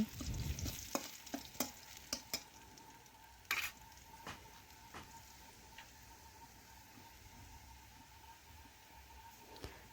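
A spoonful of dry poppy seeds fries in oil with garlic for a jute leaf curry, with a soft continuous sizzle and several sharp taps and scrapes of stirring early on before settling into a quieter fry.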